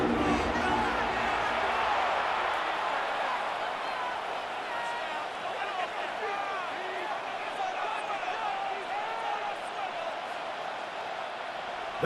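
Broad stadium crowd roar in a Madden 26 American football video game, Packers versus Vikings, a steady wash of noise sitting beneath a commentator's play-by-play voice throughout.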